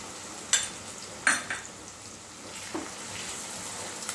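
Ginger garlic paste being stirred in a frying pan gives a soft, low sizzle, broken by a few sharp clicks of a utensil against the pan.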